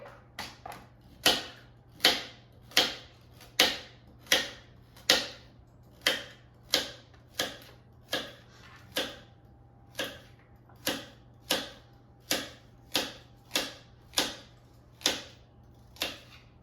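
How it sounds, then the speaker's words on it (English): A knife chops carrots into small pieces on a cutting board, with sharp, evenly spaced taps repeating roughly every second, crisp and isolated against a quiet room hum. "now just cut carrots into small pieces"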